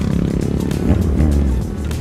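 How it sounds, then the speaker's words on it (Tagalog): Kawasaki Z1000R motorcycle with an inline-four engine, a loud, close, throaty rumble with a slight rise in revs partway through, steady and without talk. "napakaganda ng tunog ng motor na to dahil inline 4 siya"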